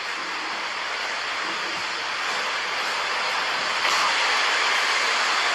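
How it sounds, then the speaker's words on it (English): Water rushes in a continuous, steady broadband roar that stays loud and even throughout, with a slight rise near the end. No voices are heard. "I hear the water moving."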